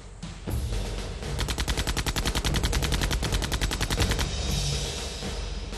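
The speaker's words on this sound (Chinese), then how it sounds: "他们的枪声会把我们枪声掩盖住。" Rapid automatic gunfire in a Chinese special-forces action film, a long sustained burst of evenly spaced loud shots lasting about three seconds, preceded by a single sharp report and followed by fading echoes.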